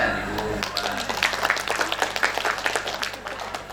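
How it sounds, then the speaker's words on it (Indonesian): Audience at an Islamic boarding school clapping after a Quran recitation, scattered, uneven claps from a modest group at moderate distance with some talk mixed in. "tepuk tangan Ibu"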